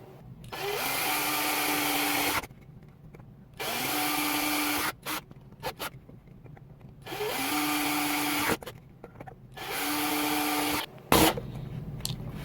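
A power drill bores holes around the rim of an aluminum Mountain Dew can, whirring loudly in four sustained runs with brief clicks and handling noises between them.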